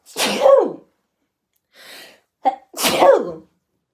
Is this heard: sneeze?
yes